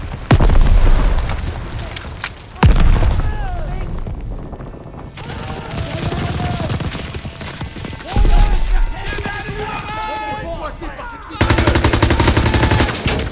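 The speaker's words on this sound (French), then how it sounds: "Des mitrailleuses balayent encore la plage." Machine guns sweep a beach in the Call of Duty WWII video game, heavy bursts of gunfire and booming impacts repeating throughout amid battle noise and music, with voices shouting over the chaos.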